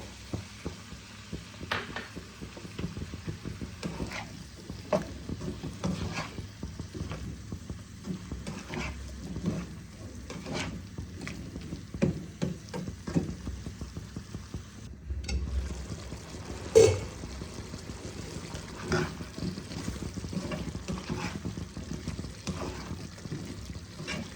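Spice masala being sautéed with a little water for a mixed vegetable dish, a soft steady sizzle with intermittent scraping stirs against the pan, close and fairly quiet throughout.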